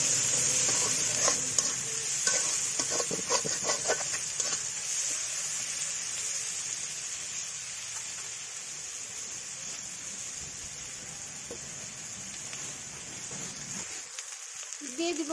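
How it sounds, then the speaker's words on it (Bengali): Chopped onions fry in a pan and are stirred, giving a steady, close sizzle with scraping stir clicks early on that gradually settles toward a quieter hiss near the end. "এবারে পেঁয়াজটা ভালো করে ভেজে নেব।"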